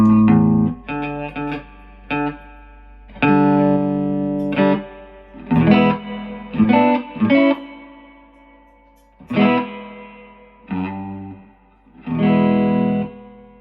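Electric guitar played through a restored Laney Tube Fusion 300 valve amp with its reverb on, loud phrases of strummed chords and held notes separated by short pauses, each ringing out with a reverb tail.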